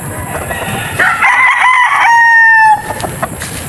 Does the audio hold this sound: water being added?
no